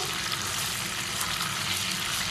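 Chicken pieces fry golden in hot oil over a high flame, a continuous loud sizzle with bubbling crackle that holds steady from start to finish.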